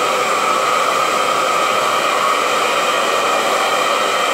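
A hair dryer blows steadily while drying hair with a brush, a continuous loud whooshing hiss that stays even for the whole stretch with no talking.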